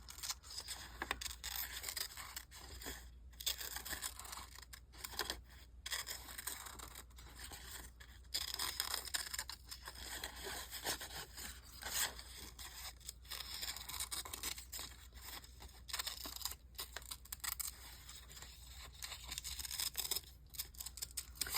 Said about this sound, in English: I might just cut out freehand